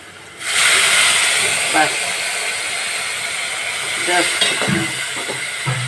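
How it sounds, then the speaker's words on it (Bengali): Water hits frying chili powder, coriander powder and turmeric in a pan for a small-fish curry, bursting into a sudden loud sizzling hiss that then settles into steady frying, with a few scraping stirs. "একটু পানি দিয়ে"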